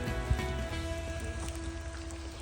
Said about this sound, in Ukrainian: Дощ у лісі.